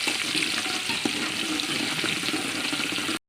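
Chopped onions fry in hot oil in a pan, a continuous loud sizzle with faint stirring scrapes before cutting off abruptly.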